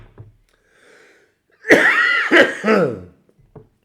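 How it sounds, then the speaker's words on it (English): A single harsh, hacking cough bursts out in a couple of rough spasms, close and fairly loud, after near silence. "That cough, I tell you what."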